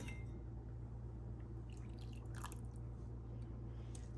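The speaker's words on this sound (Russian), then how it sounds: "добавляем бульона на 2 порции" Broth is poured into a pot of French onion soup, a faint trickle of liquid with scattered drips and splashes over a steady low kitchen hum.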